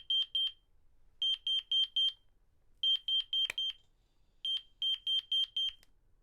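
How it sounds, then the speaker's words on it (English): An Interlogix Simon XTi security system beeps while arming, quick bursts of four or five high tones, the groups repeating with short pauses, steady and fairly loud, with no talking. "it's going to start beeping faster."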